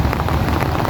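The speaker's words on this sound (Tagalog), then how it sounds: "So 6 AM na, sobrang malakas tong ulan." Heavy rain pours down at 6 AM in an early-morning downpour, a dense, loud, continuous roar of water hitting surfaces with a low rumbling undertone throughout, no voices.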